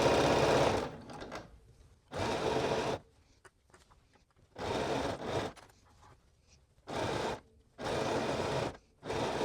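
A sewing machine stitches jersey ribbing in several sustained bursts of steady whirring, stopping and restarting with short quiet gaps between runs, close and clear with no talking.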